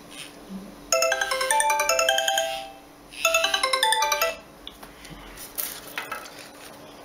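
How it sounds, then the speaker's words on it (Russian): Sony Ericsson Elm J10i mobile phone ringing with an incoming call, a bright electronic ringtone melody playing in two loud phrases with a gap between, followed by quieter handling noise. "Сейчас посмотрим, как пойдет звонок."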